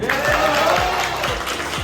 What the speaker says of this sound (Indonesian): Yuk, semuanya tepuk tangan.